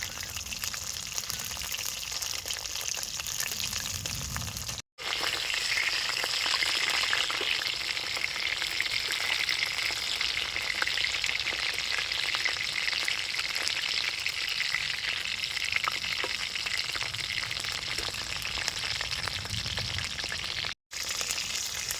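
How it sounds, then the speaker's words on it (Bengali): Chicken kebabs fry in hot oil in a pan, cooked in a village kitchen, with a continuous loud sizzle and crackle broken by two brief cuts to silence. "প্রায় দশ মিনিট গেলে কাবাবগুলো আমি ভাজছি"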